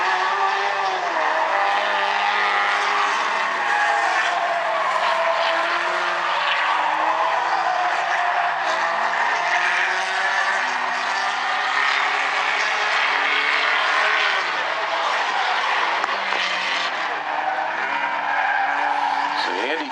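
Stinger 8 race cars roar through the final lap of a heat race at South Sound Speedway, a dense, continuous engine howl with tire skids, with a commentator talking over the racing throughout.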